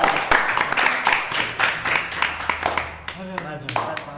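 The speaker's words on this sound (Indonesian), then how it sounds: "Tepuk tangan saya." Hand clapping in a studio during an Indonesian talk show, a steady patter of claps mixed under ongoing talk before fading, with a voice continuing at the end.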